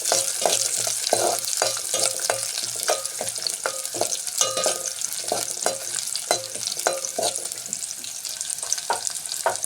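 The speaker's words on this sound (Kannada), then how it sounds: "ಈರುಳ್ಳಿ ಒಂದು ಸ್ವಲ್ಪ ಫ್ರೈ ಆಗಬೇಕು." Onions frying in hot oil, a bright constant sizzle punctuated by regular scraping stirs of a spatula, close and moderately loud.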